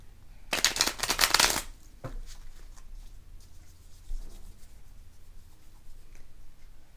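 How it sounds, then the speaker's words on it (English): A brisk riffle of tarot cards being shuffled for about a second, loud and close, followed by quieter soft card handling and light taps. "We'll give it a quick shuffle."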